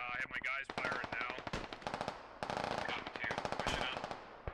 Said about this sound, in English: I have my guys firing now